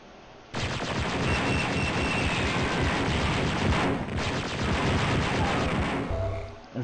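Rapid automatic gunfire from the auto gun in the shooter game Dark Forces, a dense loud burst that runs almost unbroken for about six seconds, with a brief dip near the middle, and no talk over it.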